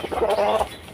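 Pet hens cluck in a brief close burst around feeding time, a short run of throaty calls that fades out within a second.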